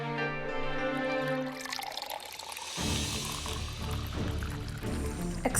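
Water is poured for a guest in an indoor scene, a soft trickling and splashing fill heard after a stretch of background music, continuing quietly with no one speaking.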